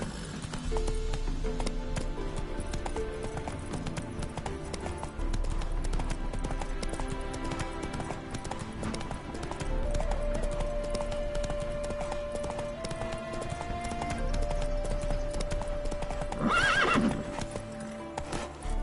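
Horse hooves clip-clopping in a steady galloping rhythm in the video game Dark Phoenix, with whinnies and neighs breaking through, loud and continuous over a game music background.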